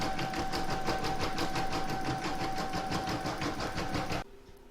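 Embroidery machine running steadily as it stitches an in-the-hoop placement outline, a fast even rhythmic whirr close by, stopping abruptly near the end.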